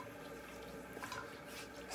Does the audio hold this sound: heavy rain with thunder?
no